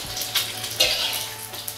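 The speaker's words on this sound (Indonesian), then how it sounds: "Telur puyuh, kita goreng dulu telur puyuhnya." Quail eggs fry in hot oil with a steady, close crackling sizzle and scattered pops throughout, with no talking.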